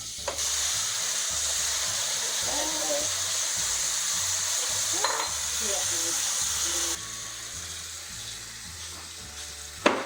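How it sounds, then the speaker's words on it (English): Butter sizzles steadily in a pan over medium heat, a continuous frying hiss with faint scraping, under low background music, ending with a sharp clatter near the close. "So we're going to saute with butter, right?"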